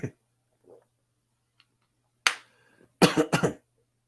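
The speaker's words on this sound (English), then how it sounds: "Excuse me for the coughing, it's making me tear." A few close coughs, sharp and separated by silence, with a couple of faint small sounds between them.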